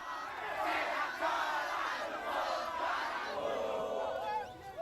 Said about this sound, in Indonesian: Ribuan penonton konser musik di Karanganyar, Jawa Tengah mengamuk